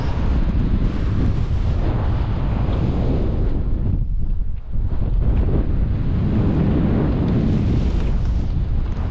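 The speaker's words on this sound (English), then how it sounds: "it's windy as anything" Strong wind on the summit of Scafell Pike, England's highest mountain, roars and buffets the microphone almost continuously, with a brief lull in the middle before the gusts return.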